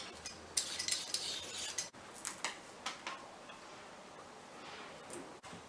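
A knife taps and clicks against a board while carrots are chopped for carrot soup, irregular light cuts close by, fairly quiet, with no talk.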